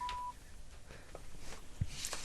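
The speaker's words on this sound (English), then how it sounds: "Yeah, I'm dialing it. It's ringing." Telephone dialing tones on a radio show phone line, a short steady beep followed by several faint keypad tones scattered over quiet background noise, with no one talking.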